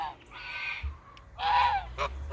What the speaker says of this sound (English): That right there is a goose gangster.